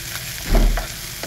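Onions frying in a pan for a loitta shutki bharta, a soft sizzle with stirring that swells briefly in the middle, alone and fairly quiet.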